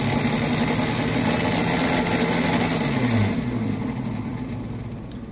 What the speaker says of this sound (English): A lot of vibration from the motor